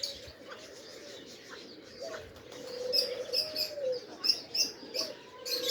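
Pigeons outdoors around a loft on a day when the flock is out flying, with chirps and coos scattered at mid distance and some bursts that may be wingbeats, over a steady background hiss and no talk.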